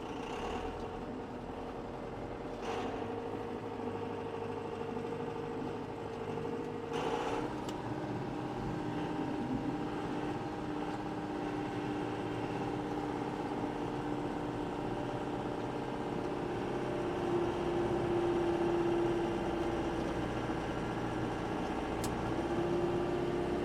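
A farm vehicle engine running steadily while driving, a continuous low drone and hum with a few faint clunks, rising slightly in pitch later on, no talking.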